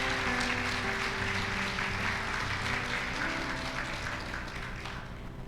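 A church congregation applauds continuously and fairly loudly over a sustained musical backdrop, the clapping tapering slightly toward the end.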